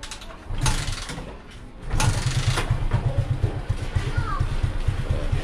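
A motorcycle engine is kicked over and catches, then settles into a steady, close, throbbing idle with mechanical clatter.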